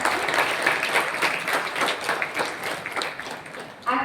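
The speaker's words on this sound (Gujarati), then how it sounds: "તો આપણે સૌ આશીષભાઈને ફરીથી તાળીઓથી સ્વાગત કરીશું." Audience applause welcoming a guest at a school welcome event, steady dense clapping from a large crowd that carries on for about four seconds before easing slightly.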